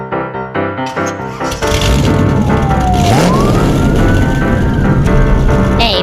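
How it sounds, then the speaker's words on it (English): Animated Brazilian police car siren, preceded by a few short musical tones and then a loud, sustained wailing siren that rises and falls. "A Brazilian police car."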